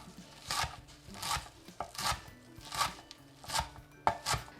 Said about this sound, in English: I'm just going to chop that up to add at the very end.